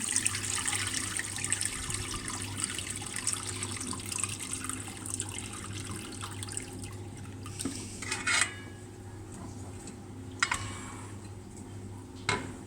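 Cooking water is poured off boiled broad beans into a sink, giving a steady running-water wash with a few light clinks of a pot, heard fairly faintly.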